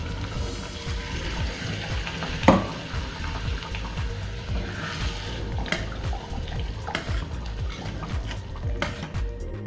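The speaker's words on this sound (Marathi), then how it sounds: "आता आपण त्यात पाणी टाकू, गरम पाणी टाकायचं" Hot water is poured into masala frying in oil for mutter paneer. A continuous bubbling, splashing hiss carries throughout, with one sharp clatter near the start and occasional spitting pops.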